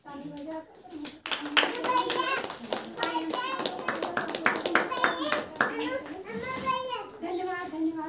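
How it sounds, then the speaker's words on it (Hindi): A church congregation at a Saturday prayer meeting claps hands in a steady rhythm, sharp close claps repeating throughout, mixed with voices singing and children's chatter. "ताली बजाकर"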